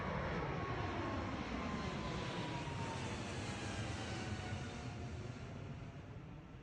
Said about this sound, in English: big old FedEx plane taking off